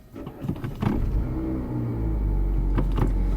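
A car engine revving in neutral during heel-and-toe practice, a low rumble that swells as the throttle is blipped and then holds a louder, steady drone, with a few faint clicks from inside the cabin.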